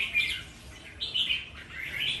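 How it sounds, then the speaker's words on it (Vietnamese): Red-whiskered bulbuls chirp in warm spring sunshine, a bright, busy run of repeated high calls coming in bursts over a soft hiss of outdoor background. "nhiều con chim nó sẽ ché"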